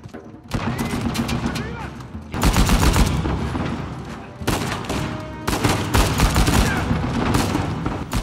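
Uncharted 4 gameplay: a gun fires in loud, dense bursts of rapid shots, broken by brief pauses, with booming impacts close by.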